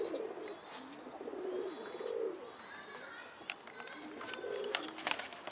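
Mardin pigeon cooing nearby in soft, repeated low rolling phrases, with faint chirps and light rustling in the background.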